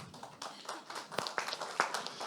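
Scattered claps from a small audience at a French-language business conference on internationalising innovative African companies, a few sharp hand claps standing out over a thin, uneven patter; faint and brief, with no talk.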